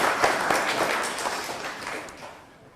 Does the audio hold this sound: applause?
yes